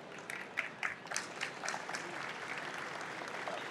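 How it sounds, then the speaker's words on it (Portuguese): A brief round of applause from a conference audience at a banking technology event, somewhat distant and soft, with a few sharper claps near the start settling into an even wash. "Uma salva de palmas."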